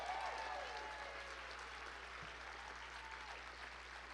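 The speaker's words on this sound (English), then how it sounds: "give them another rousing" Steady applause from a dinner audience fills the room for the full four seconds, a dense, even wash of clapping with a faint murmur of crowd underneath, at moderate distance.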